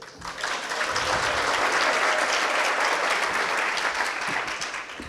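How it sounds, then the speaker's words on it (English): Applause from an audience at a 2019 State of the City event, a dense sustained wash of many hands clapping that swells in and fades slightly at the end. "we've been sitting and clapping for a while"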